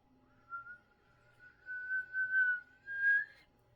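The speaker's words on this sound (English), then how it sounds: "act very surprised that you heard that one whistle again" A person whistles a single sustained, gently wavering tone that rises slightly in pitch toward the end, performed as part of a simple magic trick, clear and alone against quiet background.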